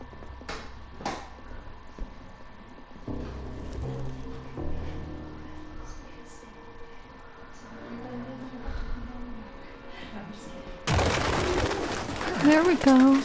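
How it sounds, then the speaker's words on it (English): Pigeons coo in a grimy indoor scene in the video game Detroit: Become Human, as low soft murmuring calls under game ambience and voices, with a few sharp knocks and a louder burst of noise near the end. "It's pigeons, Hank."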